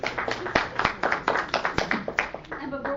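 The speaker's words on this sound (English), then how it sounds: "One more round of applause." An audience at an emergency preparedness training exercise breaks into a round of applause, with dense, steady clapping and sharp individual claps standing out throughout.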